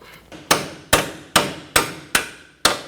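Hammer tapping a bolt into a front strut on a 2011-15 Kia Sorento: six sharp, evenly spaced metallic taps, close and loud, each decaying quickly.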